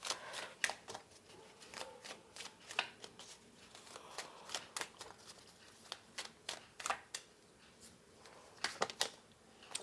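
Tarot cards are shuffled and drawn at close range, producing a quiet series of crisp paper flicks and snaps in irregular bursts, with no talking over them.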